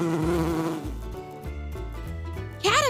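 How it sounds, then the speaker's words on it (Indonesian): Bumblebee buzzing in a children's animal-names lesson, a loud close drone with rising and falling pitch, set against a rhythmic musical backing, ending in a brief bleating-like sound. "bumblebee, Kumbang."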